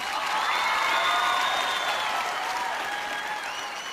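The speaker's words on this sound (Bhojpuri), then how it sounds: "एक बार जोरदार ताली" An audience at a stage music show claps loudly and steadily, a dense roar of applause with a hint of cheering that eases slightly toward the end.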